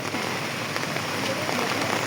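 Steady, dense rain pattering hard on surfaces at a cattle and goat market in Bangladesh, a continuous close hiss with no talking.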